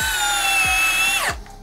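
A compact 12-volt drill drives a 3.5 inch fastener in one sustained high whine with rhythmic clutch knocks, then winds down abruptly as the screw seats, close and loud.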